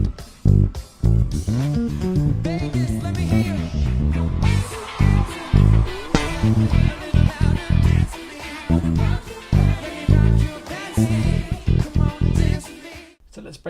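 Gospel-style electric bass lick played in the breakdown of a song, heard within a full band mix with drums and keys, busy and rhythmic throughout, ending abruptly.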